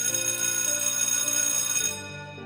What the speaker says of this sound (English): Well, that's the bell.